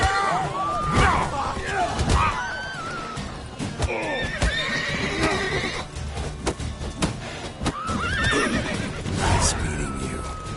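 A horse in the video game The Witcher III neighs in several loud, shrill whinnies amid scattered hoof clops and snorts, with voices in the background.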